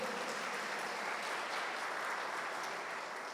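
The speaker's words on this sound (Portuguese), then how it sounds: "Vamos aplaudir o Senhor" A church congregation applauds in worship during a sermon, producing a dense, even wash of many hands clapping at once, steady and moderately loud throughout.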